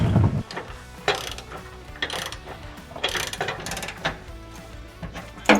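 A wrench ratchets in short clicking bursts while tightening a seat in a Sprinter van. The clicks come in several separate runs at close range, with no talking over them.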